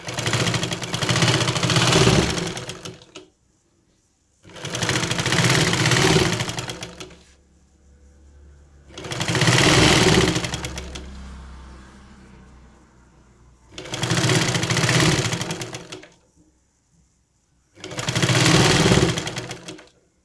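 Sewing machine stitching the lining flat onto a churidar neck, running in four loud, steady bursts of about two to three seconds each with short quiet pauses between, no talking.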